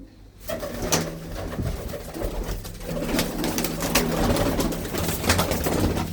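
Large white-eyed and blue-footed pigeons coo continuously in a loft, a dense, low, rolling murmur of several birds with occasional rustles and clacks mixed in.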